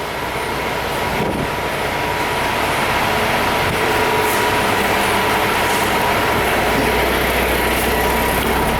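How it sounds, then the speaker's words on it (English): A heavy truck pulls into an FS farm supply plant in Gays, Illinois, producing a loud, continuous low engine rumble with a rattling rolling drone, close and steady, with no talk. "I got a truck coming in here right now."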